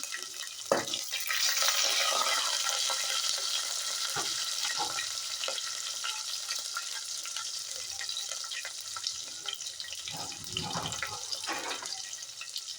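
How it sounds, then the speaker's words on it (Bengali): Spice paste for a meat and bottle gourd curry frying in hot oil, a loud continuous hiss and sizzle with occasional knocks and scrapes of a stirring spoon, close up. "প্রথমে আমি মশলাটা ভালোভাবে ভেজে নেব"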